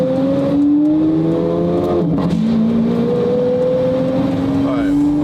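A loud Lamborghini drives on a street in Newport Beach, its engine droning steadily with shifting pitch as it accelerates, near and prominent, while voices talk over it.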